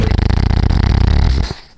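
Dog snoring in a log cabin, a close, loud, rhythmic rasping rumble with fast pulsing breaths that trails off and stops near the end.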